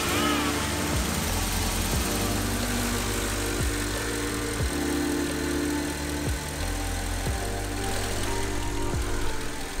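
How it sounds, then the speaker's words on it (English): A Porsche Cayenne Turbo engine runs steadily at idle, a continuous mid-pitched rumble with a faint periodic tick, heard up close for about ten seconds with no talking. "going to start the engine, see how it sounds, let it run for a little bit, check for leaks"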